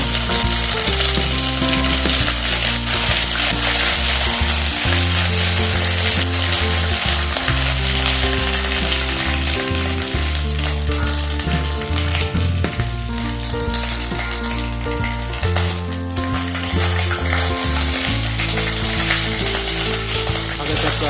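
Ginger and black cumin fry in hot oil for bhuna khichuri, making a loud, continuous close sizzle over a steady low tonal backdrop, with no talking.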